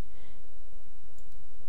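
A computer mouse button is clicked twice in quick succession, light and close, over a steady low background hum while editing in Photoshop.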